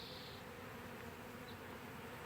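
A honeybee swarm being hived hums in a steady, dense drone of countless wings, continuous and fairly close for the whole stretch with no voices.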